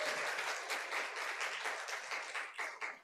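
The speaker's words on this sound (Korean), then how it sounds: "우리 박수 크게 환영하겠습니다" A church congregation breaks into sustained applause, dense clapping spread evenly across the whole moment, fairly loud and close, with no talking over it.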